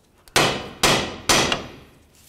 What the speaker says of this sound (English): Now let's use our hammer along the top area of the knuckle. We're gonna give this a couple loving bonks